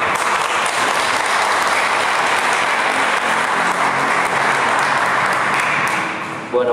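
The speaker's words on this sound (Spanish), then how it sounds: "Bueno, le damos un aplauso." Audience applause at a talk by a Jesuit priest on mercy. Even, continuous clapping fills the room for several seconds, then tapers off at the very end.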